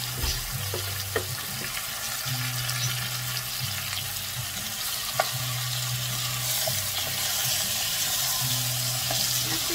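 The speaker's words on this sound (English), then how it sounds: "Brown it a little bit, mix it all together. The onion is browning." Onion and curry being stirred in a pan of sizzling olive oil, a steady close fry with a spoon scraping and mixing through it, no voices.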